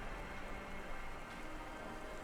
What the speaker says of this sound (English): You'd think with all the constant rain